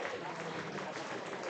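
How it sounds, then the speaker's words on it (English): Scattered clapping from a baseball crowd at a youth tournament game during a pitching change, a steady dense patter of many hands at moderate distance that holds evenly throughout. "The claps are already starting."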